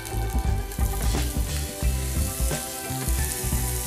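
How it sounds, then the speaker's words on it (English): Onions sauté in olive oil in a pan, a dense, loud crackling sizzle with rhythmic thumps and clatter of handling mixed in, heard up close and without speech. "I'm just going to put a little bit of olive oil on this side so I can cook the onions"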